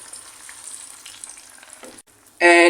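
Coconut milk hits a hot pan of cuttlefish and brinjal, bursting into a loud, sudden sizzle at the end after quiet kitchen background.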